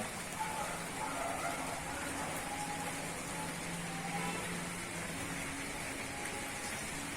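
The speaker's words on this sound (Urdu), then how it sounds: "یہ شٹر ہے نا مسجد کے اوپر سے, تو اس پہ جیسے ہی بارش کی بوندیں گر رہی ہیں تو اس کی آواز آ رہی ہے" Winter raindrops patter on a metal shutter above a mosque, a soft, constant hiss with light tapping that stays even throughout.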